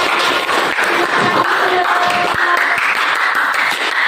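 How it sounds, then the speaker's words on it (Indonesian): A class of schoolchildren claps for a classmate after her poster presentation, a steady, fairly loud patter of many hands throughout, with faint voices underneath. "tepuk tangan untuk Diana"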